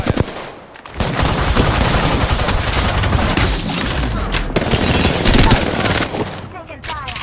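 Rapid automatic gunfire in the video game Apex Legends, dense continuous bursts of shots with a few heavier booms, loud and close throughout.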